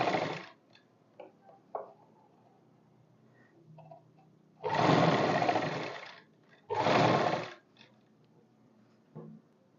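A sewing machine runs along the folded hem of a kurti in two firm bursts of rapid stitching, with quiet clicks and handling noises in the pauses between.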